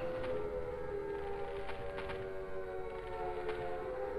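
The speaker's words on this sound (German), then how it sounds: "und die Sirene geht wieder an" Air-raid style siren from the Silent Hill video game, a steady sustained wailing tone droning throughout, fairly loud and continuous with low rumbling underneath.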